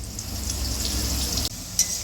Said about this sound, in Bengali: এই দেখুন কি সুন্দর ভাজা হয়ে যাচ্ছে।